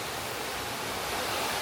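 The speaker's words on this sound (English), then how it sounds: "This is like the second waterfall within the last 5 minutes." A waterfall on a hiking trail in Costa Rica, heard as a steady, broadband rush of falling water that holds an even level throughout, with no voices over it.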